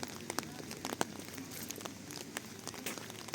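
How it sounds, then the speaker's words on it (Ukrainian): Steady rain falls on an autumn park alley in Truskavets, a dense even patter with scattered sharper drops close by, continuous throughout with no voices. "можна стояти, просто звук дощу слухати"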